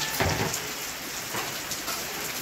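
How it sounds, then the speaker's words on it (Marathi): Steady rain falls in a dense, even hiss on surfaces nearby, with scattered louder drops and no voices. "मला तर वाटलं पाऊस गेला पण पाऊसच आला"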